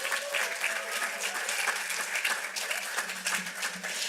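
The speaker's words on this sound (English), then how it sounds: "I didn't tell you to clap, but you knew what to do." An audience at a Fair Housing Month storytelling event applauds a storyteller, dense continuous clapping from many hands that holds steady for several seconds, moderately distant.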